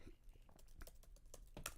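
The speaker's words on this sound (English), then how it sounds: "That's me typing on my computer" Quick, irregular keystrokes on a computer keyboard clatter faintly at close range, with scattered sharper taps and no speech.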